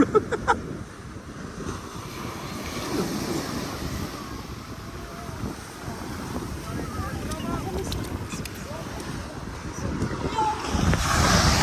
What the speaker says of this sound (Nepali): आयो ठुलो छाला ठुला आयो